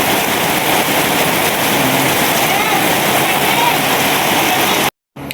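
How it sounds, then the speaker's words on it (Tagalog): Heavy rain pours down loud and steady at a house in the mountains, a dense continuous roar that fills the scene until a brief dropout near the end. "Grabing ulan, sobrang lakas."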